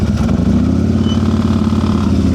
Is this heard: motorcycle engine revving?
yes